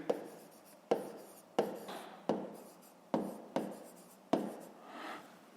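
Pen writing on paper in a fifth-grade maths exercise, heard as repeated scratchy strokes with a sharp tap at the start of each, about seven bursts in steady rhythm, close and fairly quiet with no voices.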